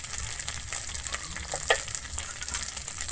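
Coriander, Kashmiri chilli and turmeric powders fry in oil for a Bengali jackfruit and potato curry, giving a faint steady sizzle with an occasional scrape of stirring and no speech.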